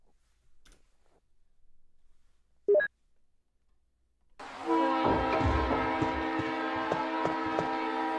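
A train horn sound effect blares after a short electronic beep, loud and sustained with chugging train noise beneath it, following a few seconds of near silence.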